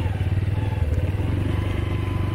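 A motorcycle rides along a bad, rain-soaked village road, its engine thrumming loud and close with a steady pulsing beat and rattling clatter from the rough surface.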